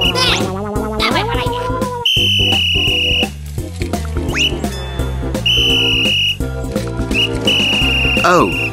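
Shrill cartoon whistle blasts ring out several times at a traffic jam over bouncy music and playful sound effects.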